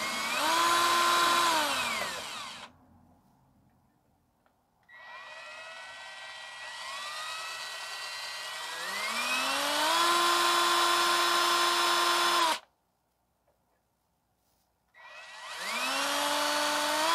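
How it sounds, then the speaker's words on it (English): A power drill whirs in long bursts drilling out a cotter pin on a 2010 Subaru Outback's front axle, its pitch climbing as it spins up, then holding steady before stopping; three runs separated by brief silences. "So we're just going to use the drill to drill this out."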